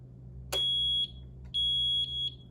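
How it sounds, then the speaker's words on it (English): An SL-2000 duct smoke detector sounds its alarm after test gas is sprayed into it: a loud, piercing electronic tone in pulses of varying length, separated by short gaps, over a steady low hum. "The detector will shortly go into alarm."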